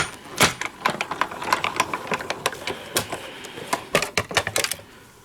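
A Better Press letterpress machine runs a card through with a close, uneven series of sharp mechanical clacks and thumps, some louder than others, with no talk.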